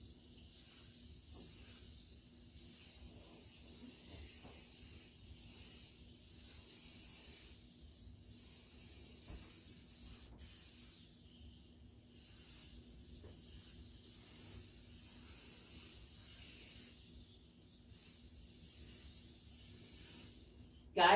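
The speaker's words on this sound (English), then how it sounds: "And I'm spraying it this thick so y'all can see it." Cleaner sprayed thickly onto a rug in a steady run of hissing bursts, each spritz close and fairly soft, with brief pauses between pulls of the trigger and no talking.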